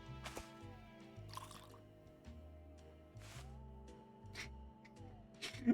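Water trickles into a paper cup in the game Loco Motive, heard as faint splashy bursts over a quiet, steady musical hum.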